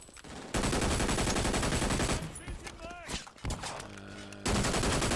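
Gunfire in the first-person shooter Brink: loud bursts of rapid automatic shooting, broken by short pauses and a few other game effects, then resuming at full volume.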